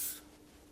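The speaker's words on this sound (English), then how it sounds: "I might give it another hairspray real quick." Hairspray hisses from a can onto thin, fine wavy hair in one short, close burst that quickly fades into quiet room tone.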